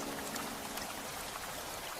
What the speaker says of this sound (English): Rain continued endlessly around the city